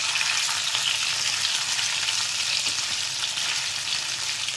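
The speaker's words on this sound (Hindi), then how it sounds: "अब हम इसमें डाल देंगे अपने ये कटे हुए आलू और इसको कर देंगे मिक्स" Cut potatoes frying in hot oil with cumin seeds and green chillies for dry jeera aloo, a steady loud sizzle throughout as they are stirred and mixed, with no talk.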